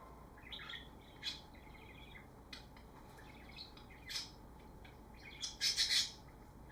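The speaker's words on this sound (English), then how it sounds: "you hear those birds?" Pet birds chirping and squawking indoors, a steady stream of small tweets with a louder burst of harsh squawks near the end.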